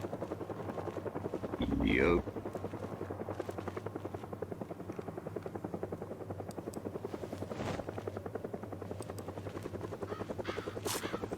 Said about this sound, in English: Helicopter's still running.